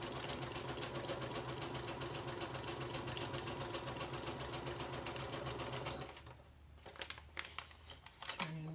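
A sewing machine runs a zigzag stitch down the side of a junk journal page, a rapid, even mechanical whir for about six seconds, then stops, leaving a few short clicks and handling noises up close.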